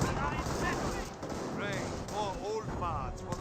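Gunfire in the real-time strategy game Company of Heroes, with steady rattling shots and thumps under a continuous battle din while someone talks over it.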